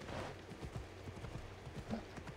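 Rhythmic hoof clip-clops of a horse ridden in Assassin's Creed Odyssey, steady steps at moderate distance with a brief snort, no speech over them.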